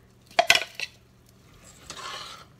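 Boondi and ground besan powder for ladoo are stirred in a pan, with a few sharp metallic scrapes and clinks of a spoon against the pan followed by a softer, gritty shuffling stir.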